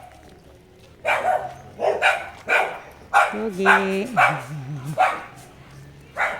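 A dog barks repeatedly in short, sharp yaps at an even pace, close by, while a person talks briefly and a drawn whimpering or whining tone rises between barks.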